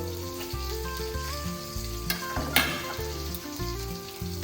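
Crushed garlic sizzles in a hot pan while mutton is cooked, a steady, close frying hiss with a few sharper spatters, heard under tonal background music.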